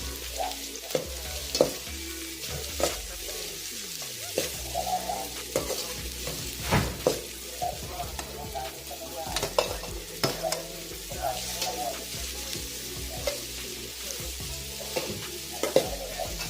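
Ampalaya (bitter melon) stir-fried with sardines and plenty of onion, a spatula scraping and tossing in a pan in steady irregular strokes over a continuous soft sizzle, close and fairly quiet with no talk.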